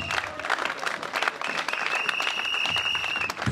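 A congregation claps steadily and densely at a church conference, with a faint sustained tone sounding partway through.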